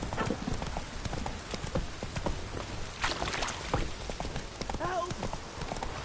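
Hooves of the horse Roach in The Witcher 3 clip-clop in a quick, steady galloping rhythm, with a brief whinny near the end and a voice speaking over the hoofbeats.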